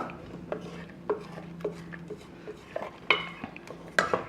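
A utensil stirs coconut rice inside a pressure cooker pot, scraping and knocking in irregular strokes, with sharp metallic clinks every half second or so, close by and without speech.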